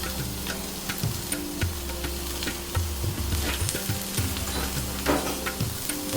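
Onions frying gently in a pan for a Spam balti, a continuous close sizzle with light stirring clicks and a low hum underneath, no talk.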